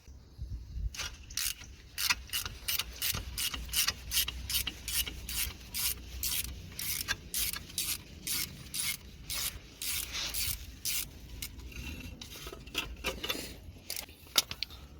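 Ratcheting and rubbing clicks from undoing the 10mm bolt on a Seat Altea front strut clamp, a fast steady run of sharp metallic strokes close by, with no talking.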